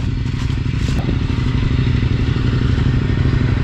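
Adventure motorbikes ride a trail in North Yorkshire, their engines a loud, dense, continuous low rumble close by, with faint clatter over the top.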